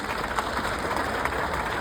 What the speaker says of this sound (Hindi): आपकी ताली बन गई।